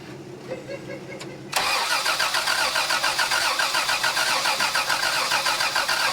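A Toyota FJ60 engine cranks briefly and then catches, settling into a loud, steady idle with a rhythmic chug that continues to the end; people talk quietly before it starts.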